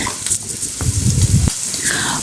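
Ginger, onion and garlic paste frying in oil for mushroom masala, a steady close sizzle with a few louder stirring bursts.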